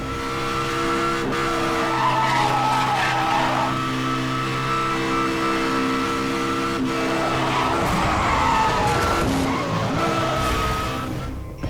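A racing car engine screams close by in a Need for Speed video game while tires squeal and skid repeatedly, with revs climbing and dropping through hard cornering.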